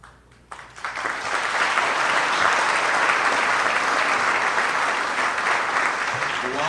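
Sustained audience applause at an evening of remembrance, rising sharply after a quiet start into dense, loud clapping that holds steady to the end.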